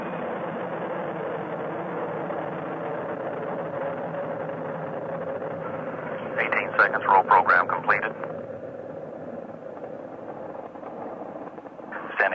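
The Space Shuttle Challenger lifts off on the STS-51B launch with a steady, muffled, band-limited roar heard over radio-style air-to-ground chatter, and crackling bursts cut in midway.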